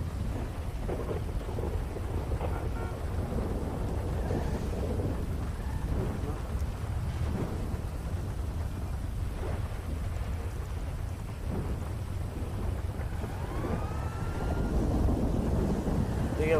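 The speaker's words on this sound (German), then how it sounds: "Aus dem Nichts Donner und Gewitter und alles." Thunder from a storm in a GTA roleplay game, heard as a steady low rumble with rain-like noise lasting throughout and no clear separate cracks.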